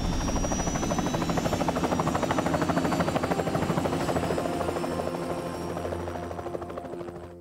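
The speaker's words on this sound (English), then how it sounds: "And then jump on the helicopter." A helicopter in the video game Hitman 2 thrums with a steady, rapid rotor chop, loud and close, fading slightly toward the end.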